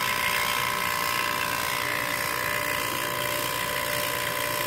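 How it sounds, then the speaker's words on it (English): A vacuum pump hums steadily and evenly as it evacuates a self-contained refrigeration compressor system fitted with a new liquid line dryer. The drone is constant and fairly quiet, with no voices. "just put it into a vacuum."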